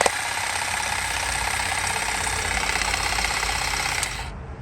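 Cordless battery-powered garden hedge shears running steadily, a close, continuous buzzing motor whine that holds for about four seconds and then cuts off, with no talking.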